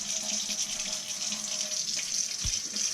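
Steady running water from a kitchen sink faucet while a trout is cleaned by a lake, a continuous hiss filling the whole span with a brief low knock near the end, no voices.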